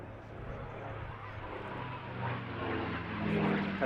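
A P-51 Mustang overflies the B-17 Sally B at the Duxford Summer Airshow, a steady broad engine drone that slowly swells louder, with a voice talking over it.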